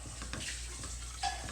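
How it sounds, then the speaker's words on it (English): A spoon scrapes and stirs a dark roux in a pot, soft rhythmic scraping over a faint steady sizzle, close and quiet with no talk. "I'll sit here and stir this just off and on."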